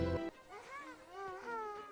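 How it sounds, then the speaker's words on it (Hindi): A small infant cries in wavering, rising and falling wails, fairly close, after a brief louder tonal sound at the very start. "ये तो किसी इंसान के बच्चे के रोने की आवाज है।"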